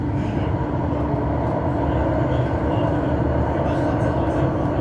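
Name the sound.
metro train ride from Delft to Rotterdam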